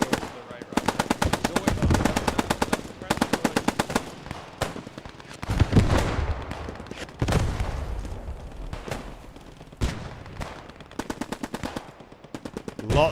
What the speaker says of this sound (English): the machine gun from that P4 starts firing through the trees